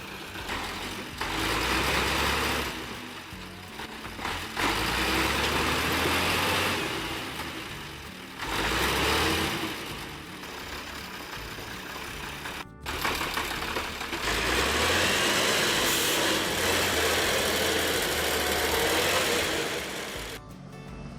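MTZ 892 tractor engine labouring through mud while hauling timber, a steady loud diesel drone with surging swells in effort and a brief dropout, heard alone without voices.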